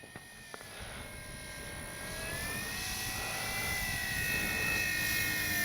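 A FLEX RV-8 RC model plane flies overhead, its electric motor whining in a steady high tone that rises and swells gradually as it draws nearer, faint against open-air background.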